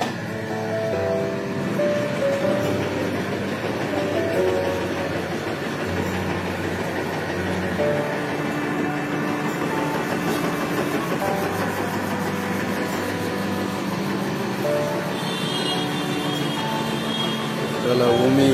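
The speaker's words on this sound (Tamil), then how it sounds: "கீழே மோட்டர்லாம் ஓடுது, பெல்ட் ஓடுது" Motors and belts of a flattened rice (aval) processing machine run in a steady, dense mechanical drone with faint rattling, continuous and fairly loud throughout.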